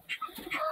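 A pigeon gives a brief, soft coo, close and quiet against a faint background hum.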